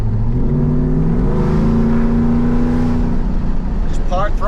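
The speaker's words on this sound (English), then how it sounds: "Part throttle blip" Supercharged Ford F150 pickup with a VMP Odin supercharger, headers and a 3-inch mid pipe, giving a part-throttle blip: a loud, close engine drone that rises in pitch and falls back, with a voice cutting in at the end.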